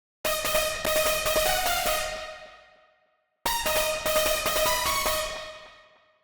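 A dry, effect-free unison detuned synth patch with a trancey hardstyle character plays two long sustained chord phrases, each swelling in with a rapid pulsing texture and fading out, alone and close.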